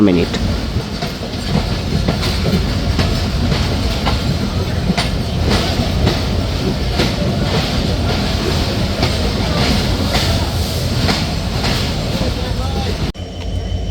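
The Barendra Express rolls into Phulbari railway station with loud, steady rail clatter and rhythmic wheel clicks, heard close as from on board or beside the track.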